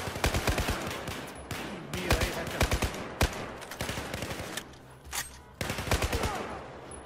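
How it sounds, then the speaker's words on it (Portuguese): Gunfire in Battlefield 4, loud bursts of automatic rifle fire and single cracking shots in uneven clusters with short gaps, close and punchy. "Cuidado, atirando!"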